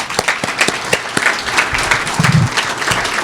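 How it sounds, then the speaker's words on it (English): A press-conference crowd applauds a newly introduced university athletics director, thick continuous clapping with distinct close hand claps, loud and sustained with faint voices underneath. "So I want to offer another round of applause for you"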